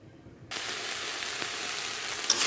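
Fourteen kinds of leafy greens cooking in a pan, a steady broadband sizzle that starts abruptly after a quiet moment and continues evenly, close and fairly loud.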